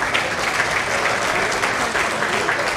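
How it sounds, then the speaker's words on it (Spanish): Loud, sustained applause from a crowd at a municipal council swearing-in ceremony, dense steady clapping filling the whole stretch with no break. "Le agradecemos con este fuerte aplauso"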